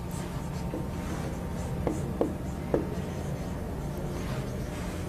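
A teacher writes on a classroom board, with a few distinct scratchy marker or chalk strokes over a steady low room hum, no talking.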